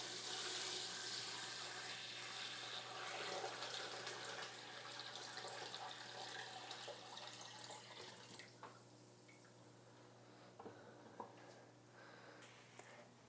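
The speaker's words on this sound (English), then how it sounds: "now I'm gonna go ahead and add my freshly made salt water" Freshly mixed salt water pours into a reef aquarium with dry rock, a faint steady rushing splash that gradually thins to trickles and occasional drips over a low constant hum.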